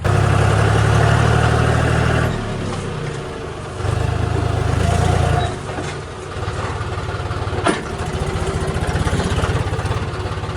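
A tractor engine runs steadily on an early morning drive, a loud low idling chug with rhythmic surges, dips and a sharp transient midway, continuing throughout without talk.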